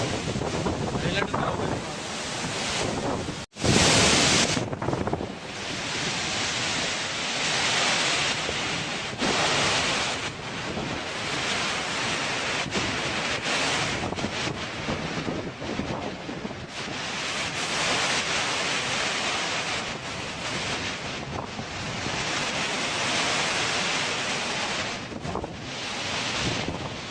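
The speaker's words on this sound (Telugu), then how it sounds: "ఇది వాటర్ ఫాల్." Gundala waterfall pours with a loud, continuous rushing roar heard up close, mixed with gusting wind buffeting the microphone, and a brief sharp break in the sound a few seconds in.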